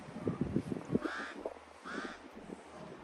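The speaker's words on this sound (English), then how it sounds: "These birds, I'm telling you, they so interesting today." Birds call in Gambian countryside with harsh, crow-like caws, including two drawn-out calls after a burst of quicker chatter. They sound fairly close and clear over a quiet background.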